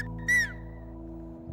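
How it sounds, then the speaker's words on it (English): A single finger whistle in the Silbo Gomero whistled language of the Canary Islands gives one short, loud, rising-then-falling tone, then a fainter held whistle trailing off over a steady low background hum. "you have to put your tongue on the tip of your finger, bend it and whistle."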